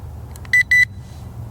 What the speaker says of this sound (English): And that beep tells me it's connected.